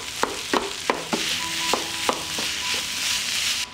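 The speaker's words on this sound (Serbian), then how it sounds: "U propržen luk dodajem i 600 g mlevenog mesa i nastavljam sve zajedno da pržim" 600 g of minced meat frying together with already-fried onion in a pan, a soft sizzle punctuated by a series of sharp spatula knocks and scrapes at an uneven rhythm.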